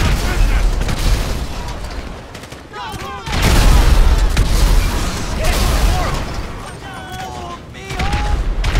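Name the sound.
grenade launcher explosion in GTA V video game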